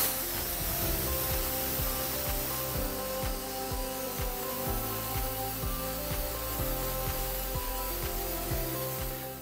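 An aerosol can sprays textured paint onto an old plant pot in a continuous rough hiss, gritty like spraying sand and steady throughout, with faint tapping behind it.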